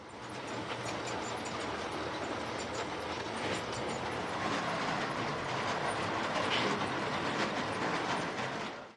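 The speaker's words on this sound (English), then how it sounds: "Two pannier tanks of the GWR, the second one with spark arrestor, are seen hauling a long train of Ace vans of various description on the upper level" Two model GWR pannier tank locomotives, the second fitted with a spark arrestor, haul a long train of assorted vans along the upper level of a model railway with a continuous rolling rumble and light clickety-clack of wheels.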